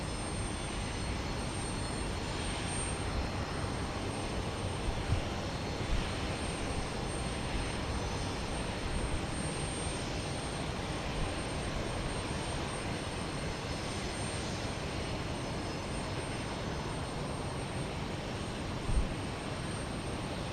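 A jet airliner lands at Houston Intercontinental airport, heard as a steady, broad roar that holds at an even level for the whole stretch, with no voices.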